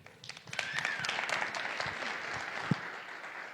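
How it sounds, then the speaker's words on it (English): Audience at a tech conference data summit applauding to welcome the next speakers, a burst of many hands clapping that carries steadily across the room for a few seconds. "So we'll give them a round of applause."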